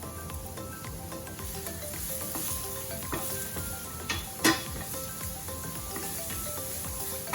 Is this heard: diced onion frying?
yes